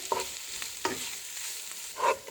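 Light scraping and stirring of garlic in a pan with a soft, steady sizzle underneath, a few clearer clinks of the utensil near the start and end.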